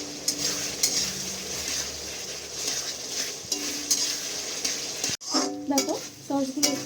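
Chili sauce gravy for chili chicken frying in a pan while being stirred, a steady close sizzle with spoon scrapes and occasional clinks; a short burst of voice-like sound cuts in near the end.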